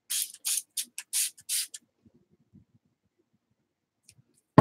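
A spray bottle mists water onto a watercolor painting in six quick hissing bursts close by, followed by quiet with faint soft knocks and a final sharp click.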